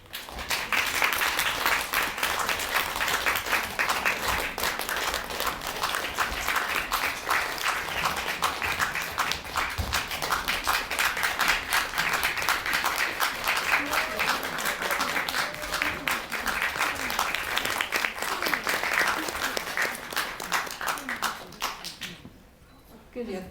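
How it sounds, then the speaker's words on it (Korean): A Korean library talk audience claps for a film's cast, a long, dense and continuous round of applause lasting over twenty seconds before fading out abruptly near the end. "자리에 올라오면 큰 박수 부탁드리겠습니다"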